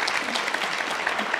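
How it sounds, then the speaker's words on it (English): A conference audience in Vancouver breaks into warm applause for a speaker, a brief, even burst of many hands clapping together at moderate distance. "one big round of applause for Anastasia from Powell River"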